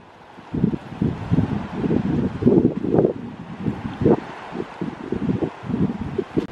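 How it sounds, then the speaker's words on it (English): Breezy wind gusting at Horseshoe Bay at sunrise, a steady rushing buffet with uneven pulses close to the microphone and no talk. "it's a little bit breezy"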